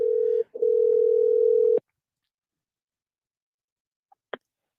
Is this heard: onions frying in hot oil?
no